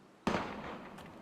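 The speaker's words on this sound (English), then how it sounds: "Gunfire!" A single sharp gunshot-like crack bursts out with a short decaying tail, followed by a fainter second pop, during a firefight in the video game Valkyria Chronicles Remastered; no voices.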